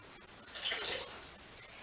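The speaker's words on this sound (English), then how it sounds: "Now that I got my garlic, I gotta wash it" Tap water runs briefly as garlic is washed in a kitchen, a soft splashing rush that swells for about a second, then fades.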